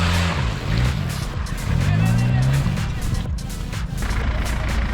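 An off-road 4x4 such as a Suzuki Jimny or Mitsubishi Pajero revs hard while climbing a slope at an off-road centre, its loud engine note rising and falling in a steady drone, with people talking over it.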